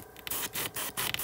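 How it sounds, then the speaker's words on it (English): An airbrush sprays paint to weather a Bachmann On30 side dump car, giving four short hissing bursts separated by brief pauses, close and fairly quiet. "I'm going to spray inside that door"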